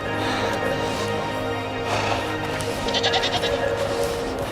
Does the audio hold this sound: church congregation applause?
no